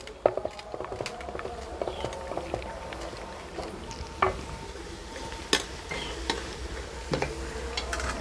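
Masala for Punjabi kadhi roasts in a pan with a soft, low sizzle, broken by frequent sharp clinks and scrapes of a spoon stirring against the metal, close-up and fairly quiet.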